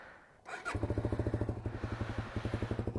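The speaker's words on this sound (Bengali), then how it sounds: "সো বাইকটা একটু স্টার্ট দিয়া হিট করে নি, নিউট্রালই তো আছে।" A motorcycle started in neutral on a cold, foggy night: a brief starter whir, then the engine catches and settles into a steady, loud, close idle with a regular thumping pulse.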